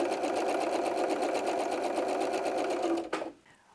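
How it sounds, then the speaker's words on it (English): Sewing machine stitching pieced fabric pairs into quads for a Dresden plate quilt block: a close, steady, rapid rhythmic whir that slows and stops near the end. "now I'm going to sew those pairs into quads."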